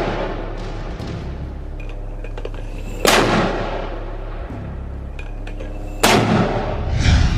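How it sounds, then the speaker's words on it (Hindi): Rockets launch from Hamas launchers in war footage: two loud, sharp blasts about three seconds apart, each trailing into a rushing roar, over a rumbling outdoor background. "इसी वीडियो में हमास के कुछ लड़ाके लॉन्चर्स में रॉकेट भर भर कर दागते हुए नजर आ रहे हैं"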